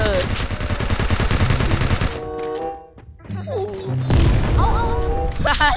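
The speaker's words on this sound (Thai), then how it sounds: "เสียงระเบิด" Rapid bursts of gunfire and booming blasts in the video game Free Fire, loud and close, pausing briefly midway before resuming with heavy shooting and explosions.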